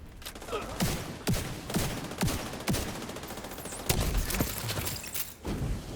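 Video game gunfire: rapid bursts of sharp shots in an irregular rhythm, crisp and fairly close, with an occasional voice.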